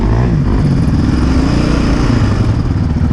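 A loud, steady Yamaha Raptor 700R ATV engine drones up close on a trail, a low rumbling motor running continuously with rattling and clatter throughout.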